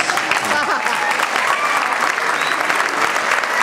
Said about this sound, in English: And we deserve that round of applause